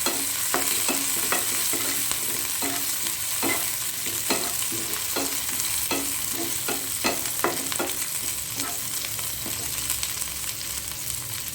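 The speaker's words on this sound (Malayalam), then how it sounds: "നല്ലതുപോലെ മിക്സ് ചെയ്യാം" Chilies and curry leaves stirred in a hot frying pan for potato fry, a steady sizzle broken by repeated scraping strokes of the spoon at an uneven rhythm, close and clear with no talking.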